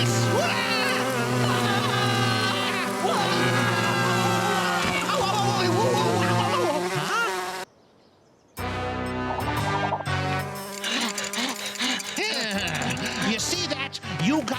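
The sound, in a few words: flies buzzing around fertilizer in a garden shed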